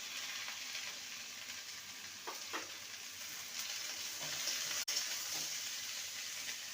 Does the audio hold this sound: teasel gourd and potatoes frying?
yes